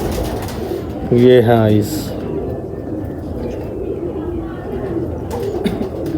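A pigeon gives a short burst of throaty cooing, close and clear, while someone talks over a steady background murmur.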